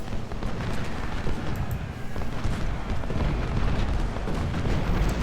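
Civil War artillery and musketry at the Battle of Shiloh in the strategy game Ultimate General Civil War, heard as a continuous rumbling barrage of booms and cracks at a steady moderate level.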